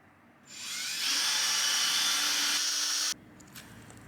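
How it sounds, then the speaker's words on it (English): A power drill whirs up to speed while drilling small guide holes into a wall for wall anchors, holds a steady high whine for a few seconds, then cuts off abruptly. "now I'm gonna go get my drill and just do the little guide holes for the anchors"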